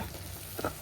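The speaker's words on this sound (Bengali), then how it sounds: "আর চিংড়ি মাছ ভেজে নিচ্ছি।" Shrimp frying in a pan, a dense close sizzle with a brief louder crackle near the end, heard alone with no talking.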